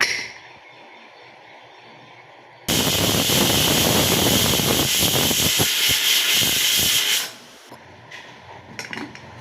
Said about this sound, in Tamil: இப்போ விசில் வச்சு எடுத்துட்டோம்